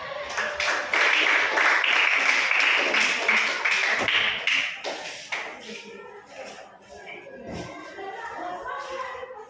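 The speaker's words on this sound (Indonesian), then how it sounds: "Oke, tepuk tangan" Classroom of students breaking into applause on cue, a burst of many hands clapping close by that swells and then fades into scattered claps and shuffling, with children's voices chattering underneath.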